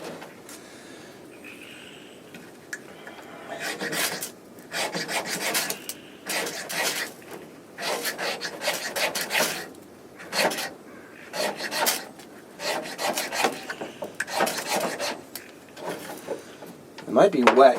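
A striker scrapes along a half-inch by four-inch ferro rod wrapped in electrical tape, giving a string of harsh rasping strokes in irregular bursts with brief gaps, close and fairly loud.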